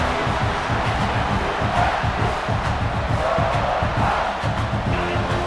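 A stadium crowd in the College Football 26 video game roars and cheers steadily during a red-zone defensive stand, a loud, dense wash of voices with rhythmic chanting or stomping pulses underneath.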